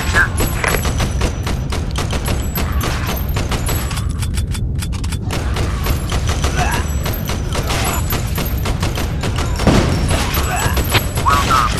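Rapid gunfire from a light-gun arcade shooter, Crisis Brigade 2: Reloaded, with dense bursts and thuds running steadily throughout, loud and continuous, with a voice talking over it at times.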